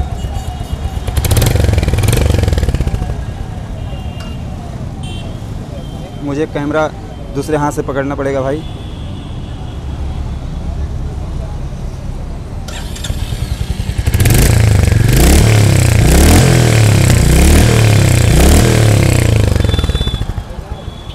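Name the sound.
Royal Enfield Hunter 350 motorcycle engine running and revving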